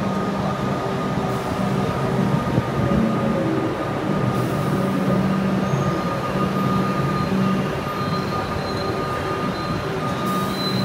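A train rolls slowly into a station early in the morning, a steady loud rumble of wheels and carriages with a faint high squeal running throughout, no voices.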